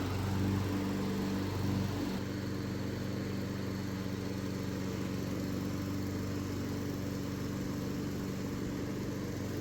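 A RoughCut IMD450 lawn mower runs steadily while mowing a lawn in straight lanes, its engine drone close and continuous with a constant mid-low hum throughout.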